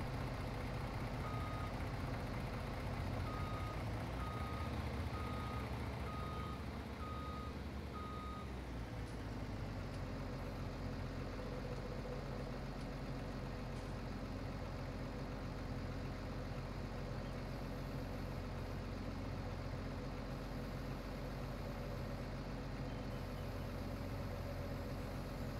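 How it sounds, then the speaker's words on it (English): A lorry in Farming Simulator gives a run of regular reversing beeps over a low idling diesel engine, then the beeping stops and the engine keeps rumbling steadily on its own, fairly quiet throughout. "I'm going to park that lorry up the top out of the way."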